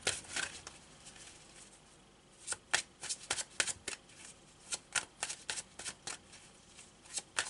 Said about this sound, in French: je vais demander quelques cartes du tarot rapidement